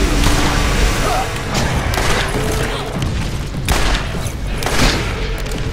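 Grenade blasts and gunfire in a chaotic multiplayer video game, dense booms and crackling shots filling the whole stretch, loud and close, with occasional voices underneath.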